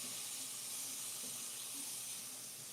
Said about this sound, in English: I don't know if you can hear it on my microphone, but it's definitely sizzling.